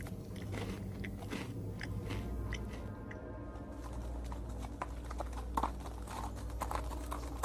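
A horse in the Where Angels Cry video game eats with repeated biting and chewing sounds and a few soft hoof-like knocks over a steady low background, with no talk.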